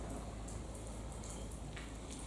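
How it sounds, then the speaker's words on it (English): Heavy rain pouring down, a steady dense hiss of drops drumming on nearby surfaces, constant and close throughout with no voices. "It is absolutely bucketing down again."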